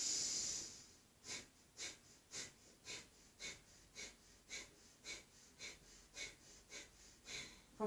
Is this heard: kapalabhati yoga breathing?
yes